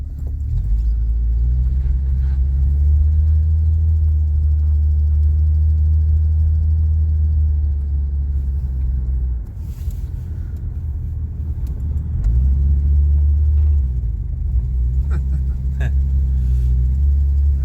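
A 1982 Ford Granada engine runs and warms up nearby, a loud steady low rumble that dips and swells slightly as it revs, with voices faintly underneath.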